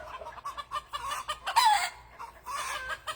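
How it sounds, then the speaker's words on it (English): A black Australorp chicken clucks in short, soft bursts, close by, with a brief louder squawk partway through. "that's my black Australorp."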